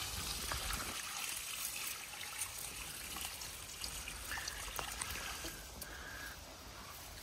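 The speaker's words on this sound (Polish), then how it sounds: "woda, nalaliśmy wodę i ta bariera powoduje, że ta woda stoi po prostu" Faint, steady trickle of water poured onto a clogged filter bed in a natural swimming pond, with soft splashing and dribbling, quiet and continuous.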